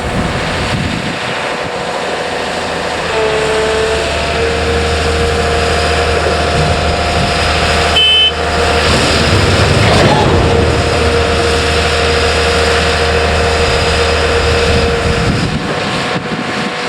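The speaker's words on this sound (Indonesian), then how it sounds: "Terlihat mesin WPZ 500 mundur." A WPZ 500 rail track-laying machine reverses on a high-speed rail slab track, its diesel engine droning in a steady, loud, continuous hum with a low rumble, close by and with no talk over it.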